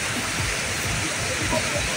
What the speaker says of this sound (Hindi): ये आप देख सकते हैं कितनी खूबसूरत पानी का फ्लो है जिस पर मैं बैठा हूँ।